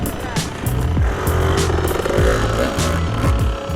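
A KDX200 two-stroke dirt bike revs loud and close, rising and falling in sharp repeated bursts of throttle that end in a high buzzing climb.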